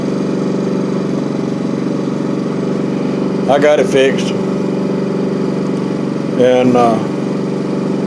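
A small Honda engine, likely on a lawn mower, running steadily after a carburetor repair, with a constant loud hum throughout and two short bursts of someone talking over it.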